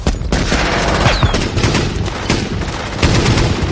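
Heavy covering gunfire from the movie Saving Private Ryan, with dense overlapping rifle and machine-gun bursts and sharp cracks, loud and close throughout.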